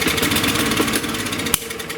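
Lawn mower engine sputtering to life on carb cleaner sprayed into the carburetor, a brief rough running buzz that cuts out with a sharp knock and fades, close and loud.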